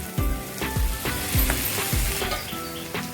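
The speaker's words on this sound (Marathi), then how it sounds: "आता आपण यात थोडंसं पाणी घालूयात।" Loud, steady sizzling from a hot pan of cluster beans after water is added, with a utensil stirring in about four regular sweeping strokes.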